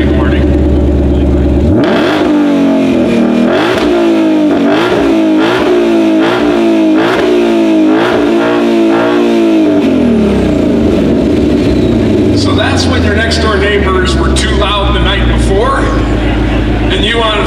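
A 2020 Shelby GT500 engine revs loudly and repeatedly in rhythmic bursts, then settles into a lower rumbling idle while other sounds and voices rise in the background of an outdoor car event.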